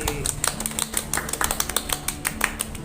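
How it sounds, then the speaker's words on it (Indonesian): Scattered clapping from students in a fourth-grade classroom, a loose run of sharp, uneven hand claps at moderate volume with a faint hum underneath. "Beri tepuk tangan lagi."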